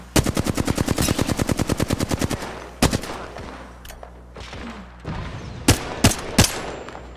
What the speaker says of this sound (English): Is that you shooting, teammate?